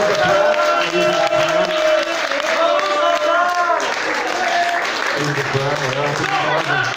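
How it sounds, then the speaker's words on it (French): Audience applause at a hypnosis show fills the clip, dense and sustained, with voices and chatter mixed in underneath. "On peut les applaudir, messieurs dames."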